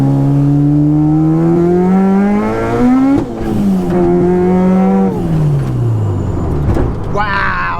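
A supercharged 1994 Honda Civic Si pulls hard, its engine note climbing in loud rising sweeps with a gear change partway, close and dominant, while people talk faintly underneath.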